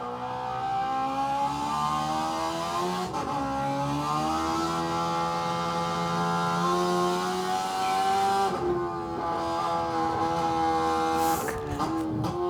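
A race car engine revs steadily at mid range, its pitch climbing and dropping through gear changes, loud and close throughout.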